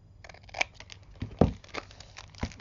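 Scissors snip off excess material on a craft project, a few short, quiet cuts with light paper rustling in a close, otherwise hushed setting.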